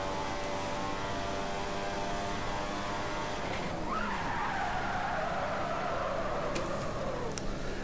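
Tyres lock up and squeal under full braking in the F1 2015 racing game, a long rising screech over steady engine and road roar that bends in pitch as the car slows.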